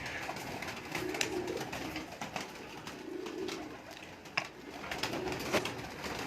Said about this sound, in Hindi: ये जी प्योर सेबे वाले कबूतर हैं